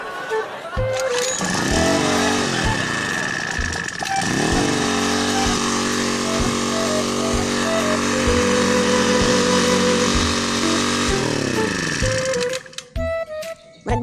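A 2.3 horsepower generator's small engine starts up and runs, a loud, steady buzzing drone with rising and falling revs, then cuts off near the end with a few clatters.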